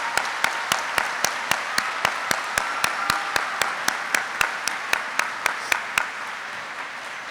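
Graduation ceremony applause for new warrant officers: steady, evenly spaced claps roughly three per second, crisp and close, as if a few people clap in unison for about six seconds before fading out.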